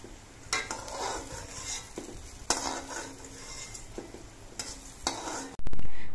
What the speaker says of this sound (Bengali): একইভাবে আমি সবগুলো ধোকাই ভেজে নেব।